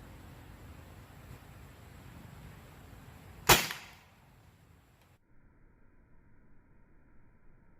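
A homemade marble gun test-fired at a small plastic bottle target: one sharp snapping crack stands out above a faint hiss, followed by quiet.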